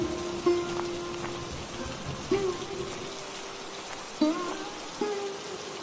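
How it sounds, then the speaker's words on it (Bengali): Steady rain falls throughout, a dense hiss with occasional louder drips and splashes standing out. "বৃষ্টি তো কমছেই না দেখছি"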